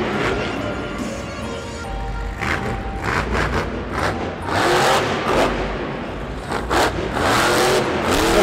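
Monster Jam monster truck engine revving through a freestyle run in a San Antonio stadium, rising and falling in bursts over loud crowd and arena noise, with a few heavy thumps from the truck's landings.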